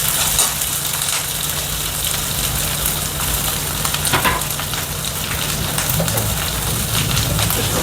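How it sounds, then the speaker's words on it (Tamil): Three large onions sauté in a hot pan for a spicy hotel-style tomato onion chutney (kara chutney), giving a steady, dense sizzle and crackle that runs without a break, close and fairly loud, with no talking. "இது கூட 3 பெரிய சைஸ் வெங்காயம் இதை போட்டு நல்லா வதக்கிக்கோங்க"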